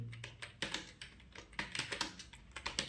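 Rapid, close clicking of a computer keyboard as narration is typed into a payment voucher entry in Busy accounting software, with uneven bursts of keystrokes and no talking.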